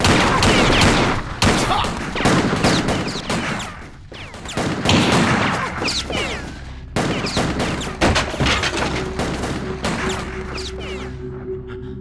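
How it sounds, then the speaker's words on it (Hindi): Heavy gunfire erupts after a shouted order to shoot, dense volleys of loud overlapping shots and bursts that come in waves, with short pauses between them and a steady hum underneath. "शूट हिम, गोली मार,"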